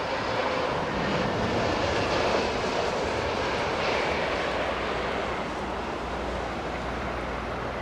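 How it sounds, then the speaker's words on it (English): Emirates Airbus A380 on final approach to Heathrow, a continuous broad engine roar at moderate distance, slowly swelling and fading slightly without any talk. "Emirates destination Dubai 380 joining"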